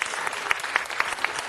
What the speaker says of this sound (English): Another round of applause for our court.